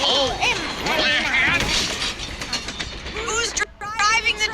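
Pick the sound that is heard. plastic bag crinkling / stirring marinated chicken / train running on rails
train running on rails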